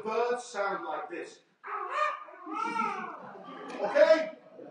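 A voice imitates bird calls with warbling, chirpy sounds in several bursts, separated by a brief pause, fairly close and moderately loud.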